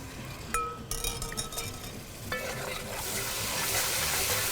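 Boiled rice water is poured into curried rice frying in a pan, bringing a rising hiss and sizzle after a few clinks of a utensil against the vessel, steady and close with no talking.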